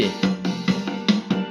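A Casio CTK-5000 electronic keyboard plays its rhythm pattern B, with a bass note pulsing on each beat and bright percussive hits in a repeating groove.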